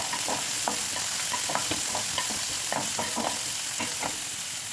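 Onion and capsicum fry in hot oil in a pan, a steady dense sizzle with scattered stirring scrapes and clicks throughout, close and continuous with no talk.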